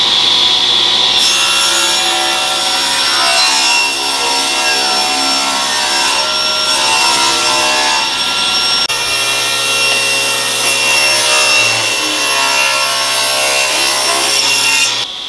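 Hand saw cutting wood pieces for a wooden wall flag, steady back-and-forth rasping strokes continuing close and loud throughout with no talk.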